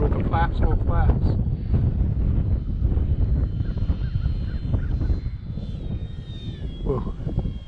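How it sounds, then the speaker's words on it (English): Strong gusting wind buffets the microphone outdoors during a windy model aircraft flight, a steady loud rumble throughout with people talking over it. "Oh, the wind is strong."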